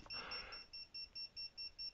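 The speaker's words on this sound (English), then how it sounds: "Can you hear the beeping?" A FlyWoo Explorer LR drone's locator beeper sounds from a distance, a faint high electronic tone pulsing in short, regular beeps, preceded by a brief rush of outdoor noise.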